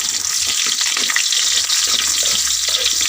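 Onion sautés with garlic in a hot pan for a provincial adobong sitaw, the garlic already golden brown. A loud, continuous close-up hiss and sizzle fills the clip with faint crackling and no talk.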